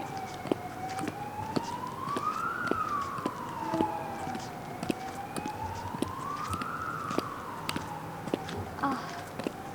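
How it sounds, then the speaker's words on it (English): A police siren wails up and down in slow sweeps at a moderate distance, over faint street noise and passing traffic. "I think the police are after me. Can you hear the sirens?"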